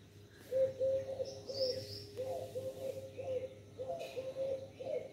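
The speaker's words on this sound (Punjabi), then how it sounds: "ਇਹ ਮੈਨੂੰ ਉਹ ਘੁੱਗੀ ਲੱਗਦੀ ਹੁੰਦੀ ਹੈ ਜਿਹੜੀ ਟਾਹਲੀ 'ਤੇ ਬਹਿ ਕੇ ਬੋਲਦੀ ਸੀ" A dove perched outdoors gives a repeated series of soft, low coos in steady phrases, fairly faint against quiet background noise.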